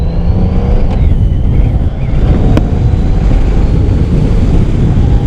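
A 2014 Honda Valkyrie motorcycle out on the road, a steady engine drone mixed with strong wind rush across the microphone, continuous and loud with no break.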